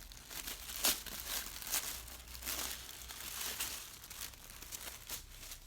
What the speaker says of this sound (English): I have to tear this paper, guys.